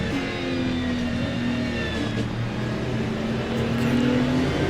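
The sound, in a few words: Ferrari 296 LMGT3 race car in Le Mans Ultimate video game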